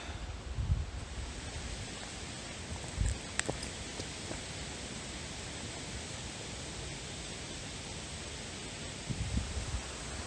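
Wind blowing outdoors along a wooded trail with tornado damage, a steady broadband rush with a few stronger gusts and a faint click, no voices.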